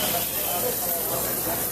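Loud, steady hissing and sizzling of tuna searing in a hot pan, close up for a moment.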